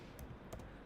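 A few quiet, light keystrokes on a computer keyboard, faint and brief with no talk.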